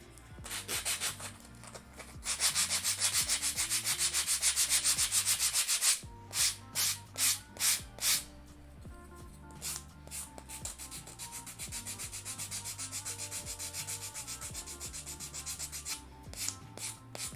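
Wood being sanded by hand for a miniature dresser, scratchy rubbing strokes in a steady fast run, then slower separate passes and uneven scraping, close and fairly quiet, with no talking.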